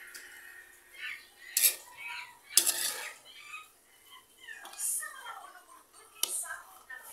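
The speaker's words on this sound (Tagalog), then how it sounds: "Ito na yung ating nilulutong pansit." Clattering pots and utensils while pansit noodles are cooked for breakfast, with scattered clinks and scrapes, a few sharper metallic knocks, and intermittent stirring sounds at close range.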